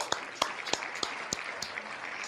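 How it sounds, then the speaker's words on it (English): Sparse applause during a live watch giveaway stream, a handful of separate sharp claps spaced roughly a third of a second apart, close and fairly light over a quiet background. "That is worth an applause."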